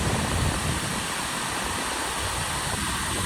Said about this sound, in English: here's the waterfall again